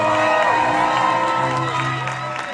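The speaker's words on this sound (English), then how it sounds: "I think we really need to give both teams another big cheer" Spectators cheer France and Ukraine at a 16-versus-16 buhurt armoured combat tournament, IMCF 2018 in Scotland. A loud, sustained crowd roar carries whoops and shouts and fades slightly toward the end.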